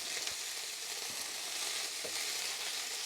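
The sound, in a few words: black pepper and bay leaves sizzling in a pan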